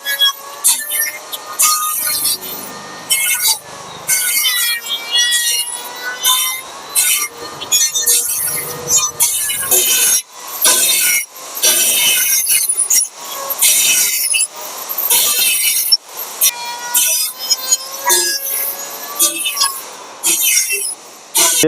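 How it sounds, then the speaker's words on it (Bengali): A beam sawing machine cuts wooden beams at an old wood furniture market. The loud, harsh, continuous cutting comes in repeated strokes with brief gaps and a squealing, high-pitched edge. "আর এই হচ্ছে বিম চেরাই মেশিন এখানে বিমটা চেরাই করা হয়"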